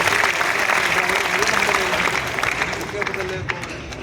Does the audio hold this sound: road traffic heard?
no